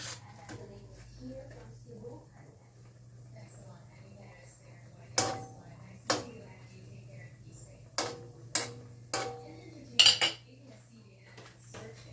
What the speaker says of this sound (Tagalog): Haluin natin ang ating adobo kat,